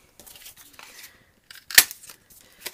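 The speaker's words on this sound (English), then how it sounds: "Punch out a 7/8 inch scallop circle." A 7/8 inch scallop circle punch snaps through paper with one sharp, close click, surrounded by faint rustling as the paper is handled.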